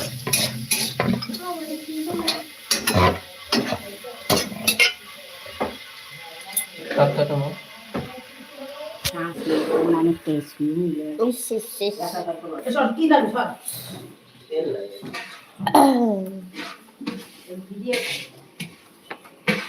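Pots, pans and metal utensils clatter and scrape while mahaprasad is cooked in a busy temple kitchen, with stirring and sizzling knocks recurring throughout under steady overlapping talk from several people.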